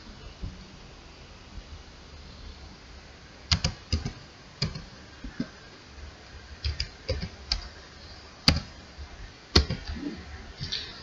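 Someone types a JavaScript script for Node.js on a computer keyboard, producing irregular bursts of close, crisp key clicks with pauses between, over a faint steady hiss and no talking.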